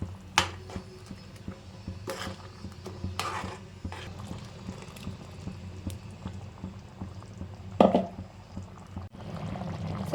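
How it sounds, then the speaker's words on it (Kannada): Water poured into a pan of chicken masala curry for Mandya-style chicken chops, a soft bubbling and splashing that rises and falls with a few sharper pours and clinks, close by and with no talking. "ಸ್ವಲ್ಪ ನಾನು ನೀರು ಹಾಕೋತಾ ಇದ್ದೀನಿ"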